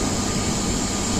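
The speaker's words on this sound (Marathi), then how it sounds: "विस्तारा एअरलाइन्स आता टेक ऑफ करण्यासाठी रेडी झालेला आहे" A Vistara Airlines jet readies for takeoff at Chhatrapati Shivaji Maharaj International Airport in Mumbai, a loud continuous broadband engine roar with no voices.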